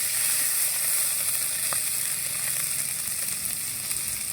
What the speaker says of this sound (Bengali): ফোড়নে দেবো তেজপাতা, জিরে। হালকা কষিয়ে নেব।